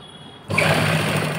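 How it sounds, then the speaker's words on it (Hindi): A sewing machine runs a thick stitch along the folded-in hem of an old t-shirt, starting abruptly halfway through as a steady, close, whirring hum after a quiet moment. "और मैं इसमें मोटी सिलाई करूँगी।"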